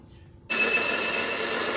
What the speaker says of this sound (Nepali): त्यसरी मिक्सरमा अलिकति पानी हालेर चाहिँ ग्राइन्ड गरिदिने